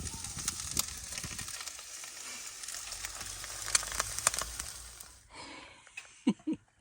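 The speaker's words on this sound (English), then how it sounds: "while the breakfast's cooking" Breakfast frying inside a camper van, a steady sizzling hiss with faint crackles for about five seconds, then it cuts to quieter clinks and a few brief noises.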